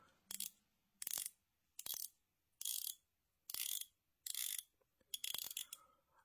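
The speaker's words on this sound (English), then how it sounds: "The bezel action is absolutely beautiful." A wristwatch bezel turned in seven short bursts of crisp ratcheting clicks, evenly spaced about a second apart, close and isolated against near silence.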